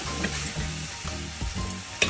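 Beef brisket with soybeans, for a Cantonese braised radish and brisket dish, is poured into a hot clay pot and sizzles loudly up close, with bubbling and the scrape of stirring over a brief moment.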